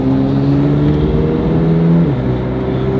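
A Corvette's engine hums at a steady, loud drone from inside the car as it cruises on a Florida road, and the pitch shifts down partway through as it changes speed.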